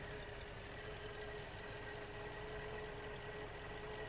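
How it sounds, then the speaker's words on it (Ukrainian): A warmed-up 2009 Volkswagen Touran 1.6 MPI petrol engine idling on gas, a steady even hum with a faint ticking pulse, heard alone at moderate distance with no talk. "Мотор працює на газу вже, такий прогрітий."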